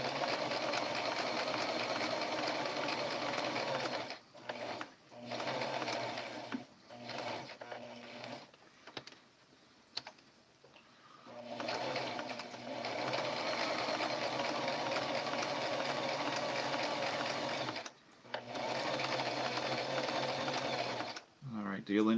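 A sewing machine zigzag-stitches appliqué onto quilt blocks, running in long steady mechanical bursts broken by short pauses, close and continuous across the stretch.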